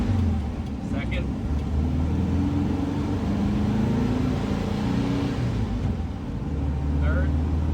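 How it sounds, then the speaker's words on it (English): A 1966 VW Bus engine on the highway accelerating through the gears, a steady droning hum with rising pitch from inside the cabin. "we're gonna take it out on the highway and see how it does going all the way through all the gears."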